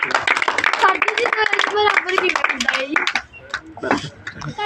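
Students in a Punjab government school classroom clap together in a dense, fast burst of claps lasting several seconds, with children's voices mixed in and the clapping thinning toward the end.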